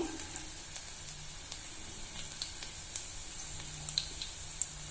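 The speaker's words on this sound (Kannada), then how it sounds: "ಈಗ ಅದೇ ಬಾಣಲಿಗೆ ಎಣ್ಣೆ ಹಾಕೋತಿದ್ದೀನಿ. ಸಾಸಿವೆ, ಜೀರಿಗೆ" Mustard seeds and cumin sizzling in hot oil in a pan, a soft, even frying hiss with scattered faint pops and crackles, quiet and alone.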